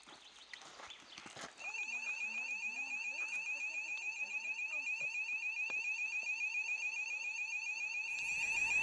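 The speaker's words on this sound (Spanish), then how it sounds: "Se disparó la alarma porque nos acercamos demasiado al sistema de vigilancia." A border surveillance system's electronic alarm goes off with a steady, loud, high-pitched repeating tone that starts abruptly and keeps sounding without a break.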